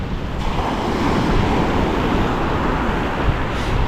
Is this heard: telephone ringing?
no